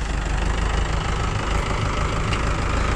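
A Mahindra 575 DI tractor engine knocks and chugs under load, pulling a trolley backward; the loud, steady diesel rumble fills the clip without any speech.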